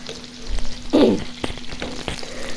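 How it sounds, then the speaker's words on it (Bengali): Potatoes fry in hot oil with a steady, faint sizzle. A few sharper clatters and stirring knocks come through the crackle, and no one speaks. "দেখুন আলুগুলো ভেজে নিতেছি"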